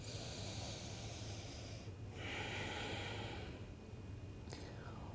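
Deep breathing during a full-body power flow yoga session, with a soft, hissy inhale swelling through the middle and fading after, faint and close.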